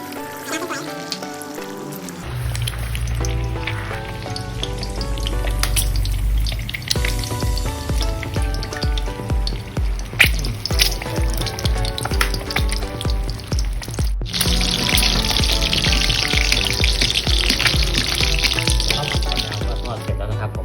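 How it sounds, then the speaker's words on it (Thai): Eggs fry in hot oil in a pan in a home kitchen, giving a steady, loud crackling sizzle that runs for about twenty seconds with a voice talking over it. "มาทอดไข่ดาวกันเลยนะครับ"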